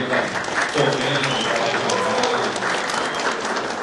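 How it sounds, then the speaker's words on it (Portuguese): A crowd applauds for a volunteer at a business talk in Brazil, a dense, continuous wash of clapping with voices mixed in throughout. "uma salva de palmas para a Roseli, gente"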